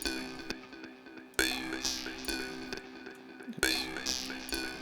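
Processed mouth harp sample with bright twanging tones, played in repeating bursts with sharp attacks and a low, gritty body, fairly quiet.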